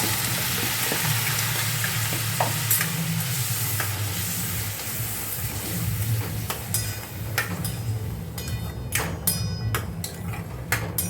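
Sponge gourd (patola) cooking in a pan in India, a constant close sizzle with faint stirring scrapes and occasional clicks, steady throughout with no talking.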